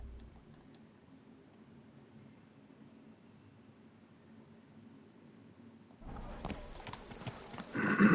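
Hooves of a horse in the video game Kingdom Come: Deliverance II clop in a quick galloping rhythm that starts abruptly and grows louder, over a quiet low background hum.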